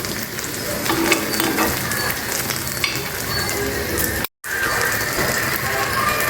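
Softened vegetables frying in a pan, giving a loud, steady, crackling sizzle close up with occasional stirring scrapes, cut by a brief moment of silence near the end.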